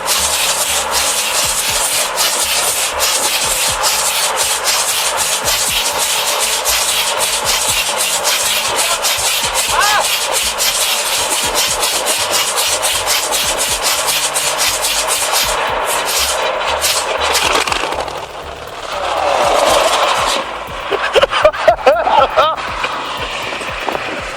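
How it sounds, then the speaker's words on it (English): A two-stroke, 12-cylinder EMD 645 diesel engine runs with a loud, rapid, rhythmic rasp that stays steady, then eases into a rougher, uneven chug near the end, with a voice talking over it. "The EMD 64512, a two-stroke, 12-cylinder diesel powerhouse built for muscle and endurance."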